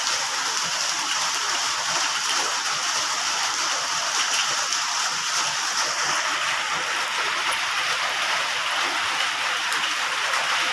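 Heavy rain falls steadily in a dense, even hiss that stays loud and unbroken throughout, with no voices.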